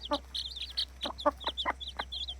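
A hen with her four chicks, some of Türken stock, gives soft repeated clucks while high thin chick peeps scatter over them, close and fairly quiet, with no talk.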